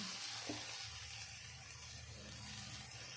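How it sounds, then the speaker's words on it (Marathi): A paratha is left to fry in a little oil on a hot pan, giving a steady, close, even sizzle that holds unbroken for the whole stretch, with a faint light tap near the start and no voices. "दुसरी बाजूही मस्त भाजून घ्यायची थोडंसं तेल सोडून"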